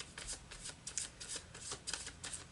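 Marquetti Tarot Royale cards are shuffled close up in a quiet room, giving a steady run of soft, crisp riffling bursts in a quick, uneven rhythm.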